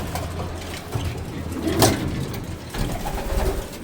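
Racing pigeons, hens and young birds, murmuring in a loft with soft low coos over a steady background hum, one brief louder rattle near the middle.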